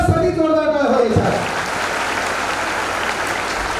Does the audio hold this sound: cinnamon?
no